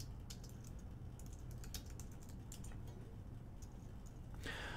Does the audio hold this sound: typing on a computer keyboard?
yes